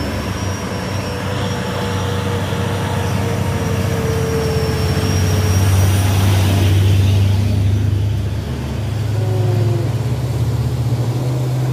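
An Isuzu box truck climbs a steep uphill road, its engine droning loud and steady with a low, sustained hum that swells slightly midway, alone without talk.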